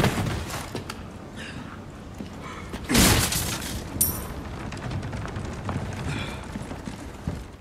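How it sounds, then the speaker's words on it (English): A grenade or explosive blast goes off in the Resident Evil 4 remake, a sudden loud burst with debris and crackle in the middle of a busy stretch of game noise, followed by a smaller bang. "that explosion did not do nearly as much damage as I thought it would"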